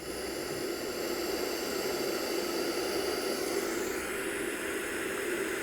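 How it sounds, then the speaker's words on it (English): Steady broadband white noise from the internal speaker of an Atlas sound masking system, a continuous even hiss at constant loudness with no breaks or other sounds. "That's white noise."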